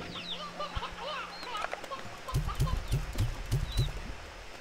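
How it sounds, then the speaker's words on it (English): Chickens in the video game Slime Rancher 2 cluck in a quick run of short, clipped calls that grow louder in the second half, with chirpy bird calls and game sounds scattered throughout. "All the chickens."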